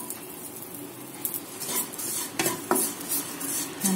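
Shallots stirred and sautéing in a pan for Kerala-style coconut roast chicken curry, with a soft ongoing sizzle, a spoon scraping and clinking against the pan, and a few louder stirring knocks.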